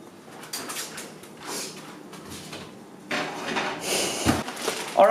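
Metal clatter and knocks as a pan is handled and slid back into an oven, a few short clanks and scrapes that get louder toward the end.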